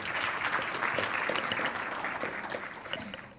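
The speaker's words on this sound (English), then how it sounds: "please make a round of applause" A conference audience at a Nordic real estate event gives steady, moderately quiet applause as a speaker from a property management software company is welcomed to the stage.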